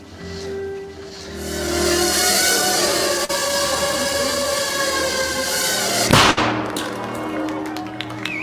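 A tiny 3-gram shaped explosive charge detonates in a single sharp, loud bang that cuts through steady background noise, followed by a brief ringing decay and scattered debris ticks.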